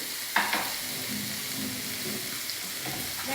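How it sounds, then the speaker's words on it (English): Lettuce and dressing are tossed together with a spoon, making a steady close wet rustle and stirring with a few sharper clicks against the bowl. "we're just mixing up our salad through all the lettuce and dressing"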